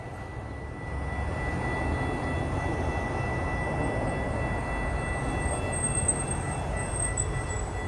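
Florida East Coast Railway tribute locomotive honoring veterans, pulling from a siding onto the main line and throttling up, with a steady deep engine rumble that swells slightly after the first second and holds, heard from a distance with no talking.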